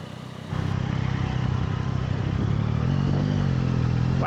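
A Yamaha MT-09 with the Y-AMT semi-automatic gearbox pulls away under throttle, its engine note rising steadily and staying close and prominent, with no talk over it.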